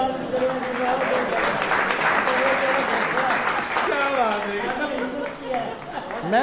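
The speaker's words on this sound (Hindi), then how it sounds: "सर के लिए ताली बजाइए।" Audience at a network marketing seminar clapping for a guest, dense applause mixed with chatter and several voices talking over it, steady and fairly close.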